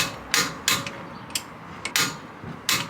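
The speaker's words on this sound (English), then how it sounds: "what I'm going to do in a minute is use a torque wrench to set the torque on these." Torque wrench tightening wheel adapter bolts on a VW Caddy being fitted with T5/T6 wheels, giving six sharp metallic clicks at irregular intervals, close and fairly loud against a quiet background.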